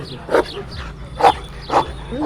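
Three loud Kangal dog barks spaced about a second apart, close by, with a faint whine between them and low background noise, at a Kangal dog competition in Antalya.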